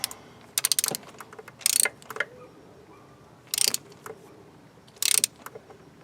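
A ratchet snugging a spark plug on a 1999 Toyota Tacoma 3.4L engine gives several short bursts of quick metallic clicking, close and fairly loud, separated by quiet pauses.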